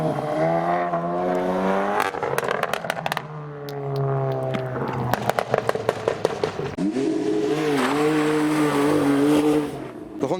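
Car revving hard at a modified car meet while doing donuts, engine note rising and falling in loud sweeping bursts with repeated tire squeal and chirps, close and continuous.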